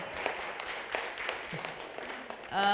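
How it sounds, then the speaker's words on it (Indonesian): Faint, brief applause from attendees at an academic panel on the climate crisis, with a sparse scattering of claps heard at a distance for a few seconds. "Tepuk tangan dulu dong buat dari iklim."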